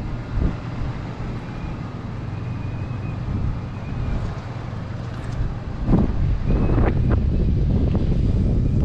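Gusty wind at around 25 miles per hour roars steadily across the microphone outdoors, a broad rumbling wash that swells and buffets, growing stronger toward the end, with no voices.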